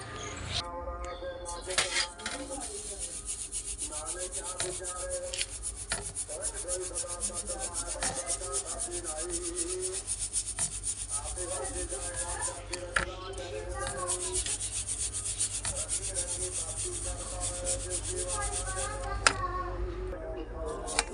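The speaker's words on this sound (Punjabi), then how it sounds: "ਹੁਣ ਆਪਾਂ ਇਹਨੂੰ ਚੰਗੀ ਤਰ੍ਹਾਂ ਛਾਨਾਂਗੇ ਕਿਉਂਕਿ ਇਹ ਵਾਲੇ ਜਿਹੜੇ ਛਿਲਕੇ ਨਿਕਲ ਜਾਣ" Ground herbal powder is shaken through a sieve to remove husks, producing a steady, continuous scratchy rubbing with rhythmic swishing pulses, close by and moderately quiet, lasting throughout with faint background hum.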